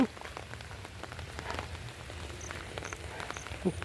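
Steady rain patters on a surface, soft and continuous, with scattered drops and a faint background hiss.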